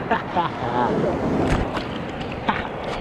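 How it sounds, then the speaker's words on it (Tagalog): Strong ocean waves slap and rush around a small boat on the way to surf at Baler, Aurora, Philippines, with wind buffeting the microphone and people talking briefly over the choppy water noise. "Lakas ng alon."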